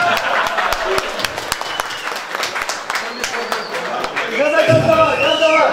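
Scattered, uneven clapping from an audience at the FIDBOL 2023 event in Ryazan, with distinct individual claps rather than a full ovation, followed by a person speaking over the tail end.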